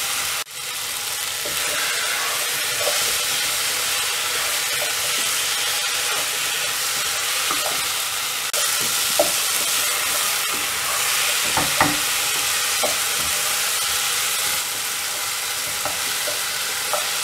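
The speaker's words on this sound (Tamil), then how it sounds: "கர்ணக்கிழங்கு போட்டு கொஞ்சம் ஃப்ரை பண்ணிவிட்டு முருங்கைக்காய் ஆட் பண்ணிவிட்டு ஃப்ரை பண்ணிடலாம்" Vegetables, including elephant foot yam and drumstick, sizzle and fry steadily in a pan for Tamil kara kuzhambu, a continuous close hiss with occasional stirring clicks and no talking.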